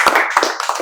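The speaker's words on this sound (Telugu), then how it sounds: "క్లాప్స్" A class at a spoken English institute claps together in a brief, loud burst of applause that lasts under a second.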